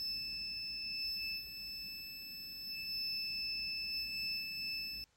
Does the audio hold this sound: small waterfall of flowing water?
no